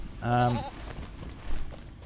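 A goat bleats once in The Lord of the Rings Online, a clear wavering cry near the start, followed by quieter ambient game sounds and faint background noise.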